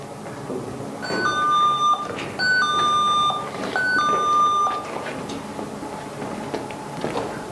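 A motion sensor alarm beeps in three short repeated bursts of chirping tones, loud and close, over faint background noise.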